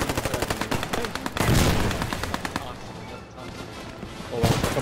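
Rapid bursts of gunfire crackle through a large-scale World War II battle in Squad 44, with dense automatic fire in the first second, a heavy blast, then more scattered shots near and far.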